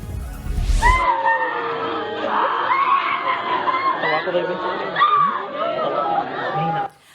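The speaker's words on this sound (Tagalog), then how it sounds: "Sa video, maririnig ang iyakan at sigawan ng mga residente ng barangay Dumadalik." Residents of barangay Dumadalik in Tantangan, South Cotabato cry and scream after a shooting, many overlapping distressed voices shouting and wailing continuously, loud and close, after a brief low thump at the start.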